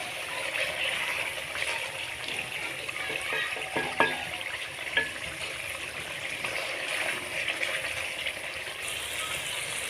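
Mutton sizzles and fries in oil in a pot for palak gosht, a steady close crackling hiss with a couple of faint clinks, no talking.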